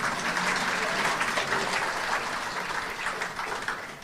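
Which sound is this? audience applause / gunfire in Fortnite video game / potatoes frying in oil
audience applause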